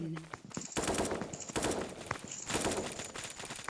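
Rapid automatic gunfire in the video game Counter-Strike, dense bursts of shots rattling one after another with short breaks between volleys, loud and close.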